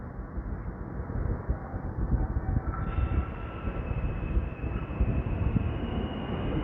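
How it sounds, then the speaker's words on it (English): Subway train at the 34th Street station in Manhattan, a continuous low rumble with rail noise and a faint tonal whine, steady and fairly loud throughout. "It's the 34th Street subway train station."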